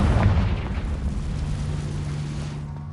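A Confringo explosion spell goes off in a PS5 video game, a loud, deep boom that hits at once and rumbles away over about three seconds.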